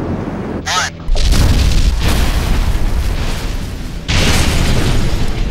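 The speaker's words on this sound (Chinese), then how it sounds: "在一连串的引爆后" Demolition charges detonated to sink an aircraft carrier at sea, a series of heavy booming blasts with long rumbling noise between them, loud and powerful and heard without talking.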